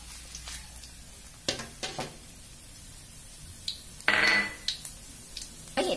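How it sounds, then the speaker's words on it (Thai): Shiitake mushrooms crisping in hot oil in a pan, heard as scattered metallic clanks and scrapes of a utensil against the pan with a brief sizzling burst near the middle, close and moderately loud. "เราจะเจียวเห็ดหอมให้เหลืองกรอบเล็กน้อยก่อนนะคะ"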